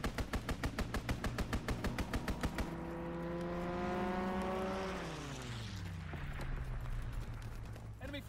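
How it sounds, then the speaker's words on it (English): Aircraft strafing gunfire in Call of Duty WW2: a fast run of loud, evenly spaced shots over about two and a half seconds, then a roaring engine swoops past with a falling pitch and trails off into distant rumble. "Strafing the target."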